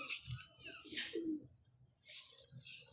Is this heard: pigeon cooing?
yes